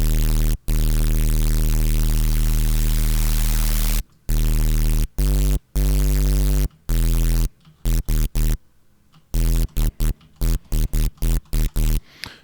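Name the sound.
Serum synth sound with Stomp Box distortion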